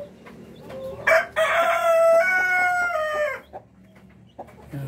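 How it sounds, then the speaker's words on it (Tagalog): A nine-month-old Rhode Island Red rooster crows once, close and loud, a long drawn-out call rising and trailing off on a farm. "Itong rooster natin ito mga Kabi Farming ay"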